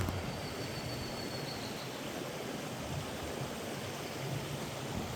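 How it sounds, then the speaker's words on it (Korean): Steady broadband rush of a mountain stream flowing down from Paraeso Falls on Sinbulsan, South Korea, continuous and even throughout with no voices. "폭포 쪽에서 흘러내려오는 물이 이제 이래 흘러내려가고"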